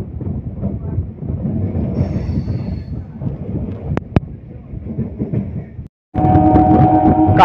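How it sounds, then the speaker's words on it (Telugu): A MEMU passenger train pulls away from Kavutaram station on the Vijayawada to Machilipatnam line, a loud close rumble of wheels on rails. Two brief squeals cut through, and after a short gap it returns as a steady, louder, tonal roar. "కావుత్రం స్టేషన్ నుండి అయితే మన ట్రైన్ బయలుదేరిపోయింది."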